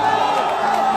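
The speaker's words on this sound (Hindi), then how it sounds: "इनके लिए एक जोरदार ताली बजाना हो भैया" A crowd at an outdoor Bhojpuri star event cheers loudly, a sustained roar of many voices with whoops close to the microphone, and clapping is not clearly distinct in the din.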